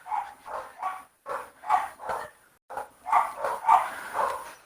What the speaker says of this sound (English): I apologize for my dogs in the background